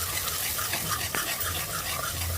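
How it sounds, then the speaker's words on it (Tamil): Onions and curry leaves sizzle and get stirred in hot oil inside a pressure cooker, a steady frying hiss with a few soft scraping strokes, close and alone. "குக்கரில் எண்ணெய் ஊற்றிடுங்க. ஊற்றிட்டு வெங்காயம் கருவேப்பிலையை போட்டு வதக்கலாம்."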